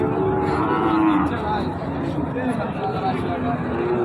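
A Sahiwal cow lets out a long, low moo up close at a cattle market while people talk over it in a busy outdoor setting.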